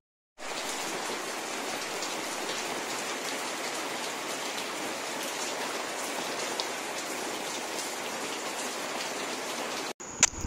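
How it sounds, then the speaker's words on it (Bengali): Steady rain falls on a summer afternoon, a dense, even hiss holding for about ten seconds without a break, then stopping abruptly near the end with a few small knocks. "এত সুন্দর বৃষ্টি হচ্ছে"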